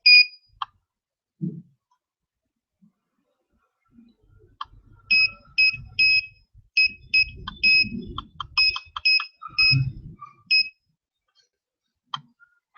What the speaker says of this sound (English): sounds like we got some Morse code going on in the back room there